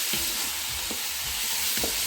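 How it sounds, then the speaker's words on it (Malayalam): Onions sauté with beef for a Kerala beef roast, a dense steady sizzle with soft periodic scrapes as a utensil turns the pan's contents. "ബീഫിലേക്ക് സവാള വഴറ്റിക്കൊണ്ടിരിക്കുകയാണ്."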